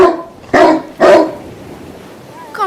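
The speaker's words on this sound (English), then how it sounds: "Crazy dog. Doesn't play in the water, but barks at large rocks." A dog barking outdoors near large rocks, two loud close barks in quick succession and then a quieter trailing sound.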